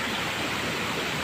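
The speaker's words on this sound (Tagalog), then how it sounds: "Ganda ng ilog." River water flowing in Negros, a dense, steady rushing wash heard up close and unbroken, with no voices over it.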